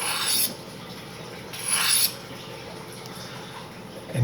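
A rusty knife blade being sharpened, two slow rasping strokes loud and close, each about half a second long, separated by quieter room noise.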